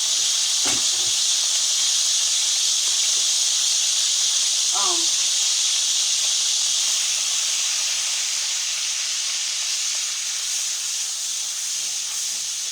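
Hot grease sizzles in a skillet before gravy is made, a steady bright hiss running the whole time, with a couple of brief clatters and a short voice in the middle.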